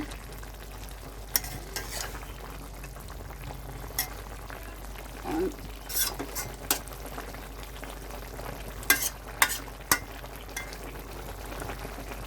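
Fish and water spinach (kolmi shak) frying in a pan while being stirred, with a constant low sizzle and bubbling broken by sharp scraping and clinking strokes of the spatula, close and fairly quiet.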